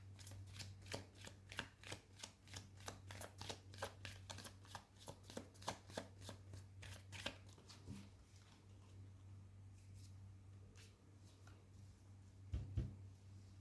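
Tarot cards are shuffled and pulled from a second deck: quiet, rapid rhythmic riffling snaps close by, then a pause and a couple of soft taps at the end.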